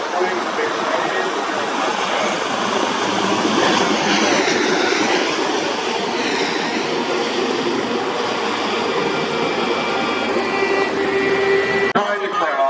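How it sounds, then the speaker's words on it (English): HC-130 aircraft flying over an outdoor airshow, a loud, steady droning rumble of propeller engines sustained throughout, rising slightly as it passes, with a public-address announcer talking over it. "That's a beautiful HC-130 comes in."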